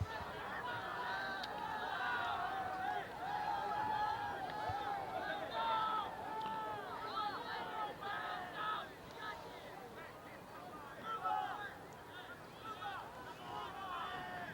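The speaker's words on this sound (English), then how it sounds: "Sparse crowd here at the Erickson All Sports Facility" Thin crowd chatter in the stands at a chilly high school football game at the Erickson All Sports Facility, Parkersburg South against Morgantown, a low murmur of scattered voices with a commentator talking over it.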